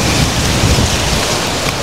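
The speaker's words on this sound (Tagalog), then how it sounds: "ang lakas ng hangin" Strong wind and a storm outdoors near a riverside dike: a loud, continuous roar and rush of gusting air, steady throughout with no voices.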